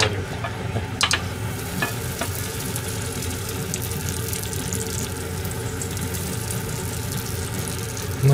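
Buttered sandwich bread frying in a pan over very low heat gives a steady, close sizzle and crackle that runs throughout, with a few faint clinks of utensils near the start and no talking.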